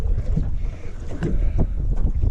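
Steady wind buffets the microphone with low rumbling gusts, over faint water and boat noise outdoors on a cold day while crappie fishing.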